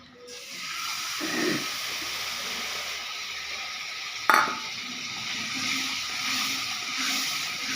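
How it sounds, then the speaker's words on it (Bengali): Ground peanut paste goes into a hot cooking pan with a soft hiss and low sizzle, followed by a single sharp metallic knock of a utensil against the pan, no talk. "এবার বাদাম বাটাটা ঢেলে দিচ্ছি"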